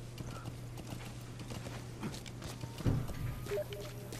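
Hooves of a horse thud in Metal Gear Solid V, a soft uneven clip-clop at moderate distance over a steady low hum, with a louder thump near the end.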